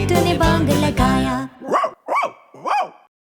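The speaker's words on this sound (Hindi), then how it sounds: "नहीं बार्टोलीटो, वो एक कुत्ता है।" In a cartoon children's song, a dog barks three times in distinct, evenly spaced bow-wows, loud and clear after a stretch of music and singing.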